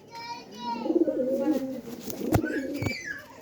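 A pigeon, one blown in by a recent storm and suffering an eye infection, gives throaty cooing phrases close by, with some clicks and handling knocks in the background.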